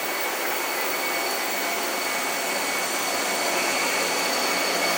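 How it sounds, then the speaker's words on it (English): A CNC lathe turning very small precision parts in a machine shop gives off a steady, loud, broadband whir with a faint high whine, unchanging and with no voices. "CNC lathe. It's in operation. We're making some parts."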